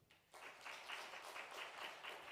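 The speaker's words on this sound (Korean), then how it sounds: "박수 한번 보냅시다" A church congregation applauds its elders during a Sunday worship service, a faint, steady patter of clapping from a distant crowd that starts abruptly and carries on evenly.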